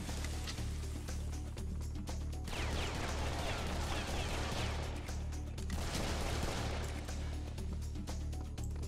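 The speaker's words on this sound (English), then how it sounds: "I guess listening for the sound of gunshots is one way to find the other person" Rapid gunfire from the first-person shooter Serious Sam 3, bursts of shots crackling over a constant low game rumble, with busy volleys in two stretches and no talk.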